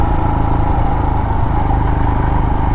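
Royal Enfield Himalayan motorcycle engine held at full throttle in second gear while climbing a mountain road, a steady, loud, continuous drone with rough mid-range clatter and no talking.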